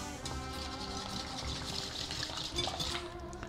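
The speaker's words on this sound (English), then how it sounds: "Let's whisk this all together." A whisk stirs a batter of orange juice, fresh orange zest, sugar and Grand Marnier for stuffed French toast, a steady close scraping and sloshing against the bowl with a faint kitchen hum beneath and no talking.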